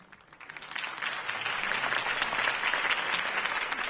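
A crowd breaks into applause after a campaign speech for Harvey Dent in Batman: The Telltale Series, swelling from quiet to a dense, steady roar of clapping heard from a slight distance.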